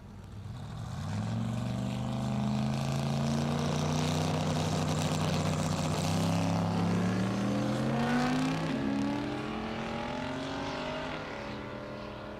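Drag cars race down the strip at Mid America Dragway in Geuda Springs, Kansas, one a turbocharged LS-powered car: a loud, sustained engine roar with climbing pitch that swells, holds and then fades away.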